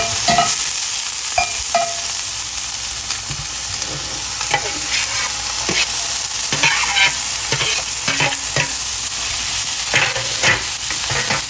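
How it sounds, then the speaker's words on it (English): Mushrooms sauté in a hot pan while cooking tacos outdoors in a forest. A loud, continuous sizzle runs throughout, broken by crackling pops and the scrape of stirring, with no talking. "This is where I'm gonna saute the mushrooms"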